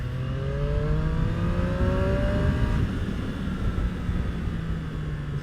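Triumph Street Triple RS motorcycle engine held in second gear on a damp, semi-dry road, a steady close drone with rising engine whine and continuous wind noise.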